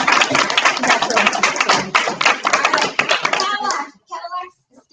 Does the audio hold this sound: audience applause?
yes